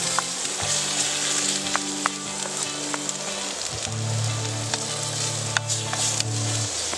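Food sizzles and spatters steadily in a frying pan at a wild camp, a close, continuous crackle with occasional sharper pops and no voices.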